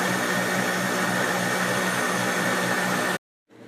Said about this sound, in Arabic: كده انخلطت المكونات في الخلاط